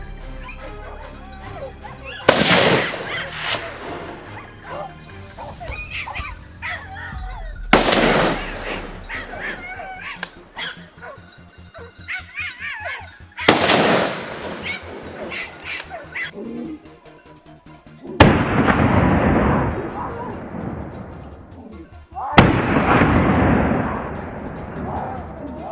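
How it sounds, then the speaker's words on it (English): Loud, sharp gunshot blasts while hunting fast-moving wild boar in a forest near farmland, five separate reports spaced a few seconds apart, each with a long echoing tail, and a dog barking in between. "Wild boars move very fast, so I had to aim accurately and pull the trigger at the right time to hit the target."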